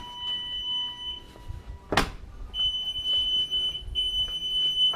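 A transmission flush machine hooked to a Silverado truck signals completion with a steady, piercing electronic beep that holds and repeats, broken by a brief loud whoosh, over faint background noise.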